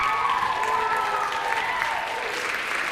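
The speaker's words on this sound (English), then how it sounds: "I want to give a huge round of applause for the parents that have supported the expressions throughout all 4 years." Audience at a student group's performance applauds the parents: full, sustained clapping with some crowd voices, loud and close throughout.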